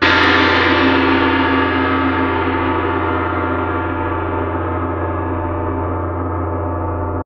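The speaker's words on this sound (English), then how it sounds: "Gong." A single large orchestral gong struck once, its loud, rich metallic roar sustaining and slowly fading over about seven seconds, heard alone.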